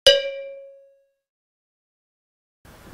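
A single struck bell at Hanshan Temple in Suzhou rings out once, loud and close, its tone decaying over about a second into silence, with faint rustling at the end.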